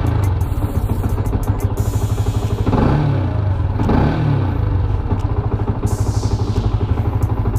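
A modified old-model Yamaha Vixion motorcycle idles fast at around 3000 RPM on a cold engine, giving a steady, loud, close-up mechanical drone with a rapid regular pulse and no talking.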